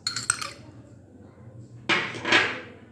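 Chicken being mixed with soy sauce and Worcestershire sauce in a large bowl: a quick clatter of utensil against the bowl at the start, then a louder scraping clink near the end, with quiet between.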